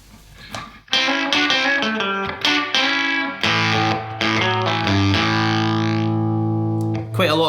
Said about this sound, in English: quite a lot of kind of distortion coming in there at the full gain